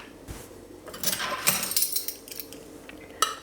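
A spoon stirs cream curd cheese in a bowl as lemon juice is added a spoonful at a time, giving close, irregular scrapes and light clinks against the bowl with no talking.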